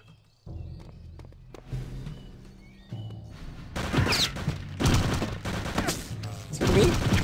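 Mauser rifle fire in Return to Castle Wolfenstein, starting with quieter clatter and thuds, then a run of loud, sharp shots and crashing impacts in the second half.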